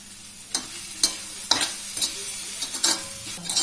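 Okra with coconut is stirred on a hot griddle with the gas being turned off: a soft sizzle underneath, broken by sharp metallic scrapes of a spatula against the pan roughly every half second.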